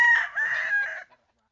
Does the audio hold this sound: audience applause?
no